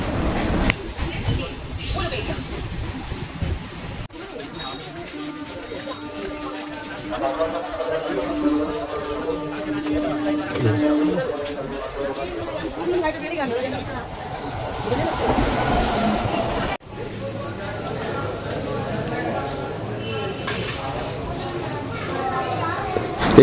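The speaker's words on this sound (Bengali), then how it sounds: "তো এখন চলে এসেছি একদম উলুবেড়িয়া স্টেশন, তোমরা দেখতেই পাচ্ছ এটাই সেই আমাদের উলুবেড়িয়া স্টেশন।" Ambience at Uluberia railway station, with the rumble and clatter of trains over a busy background of voices and station bustle, steady throughout, with a sudden drop and shift partway through.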